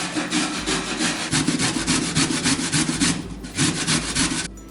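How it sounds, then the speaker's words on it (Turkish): Carrot rubbed quickly across the fine side of a hand grater, giving a steady, close rasping scrape with rapid back-and-forth strokes that run continuously with no talk. "Öncelikle havucu rendeleyerek başlıyorum. Rendenin ince tarafıyla rendeliyorum."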